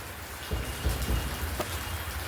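Heavy rain in Unjha, Gujarat, pattering steadily on a surface, with a few low rumbling thuds mixed into the downpour.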